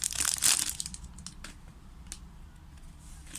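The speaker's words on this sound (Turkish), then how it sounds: "Neyse son paketimizi açalım." A Süper Lig 2014-2015 sticker pack is torn open, with crisp crinkling and tearing of foil wrapper up close, a loud burst at first then softer rustles and handling noises.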